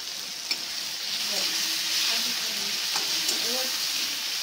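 Ginger, turmeric powder and chili sizzle in hot oil in a pan for a fish curry, a steady close frying hiss with light stirring scrapes, no talking.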